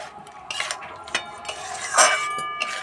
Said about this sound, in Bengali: এইভাবে নাড়াচাড়া করে হালকা ঠান্ডা করে নেব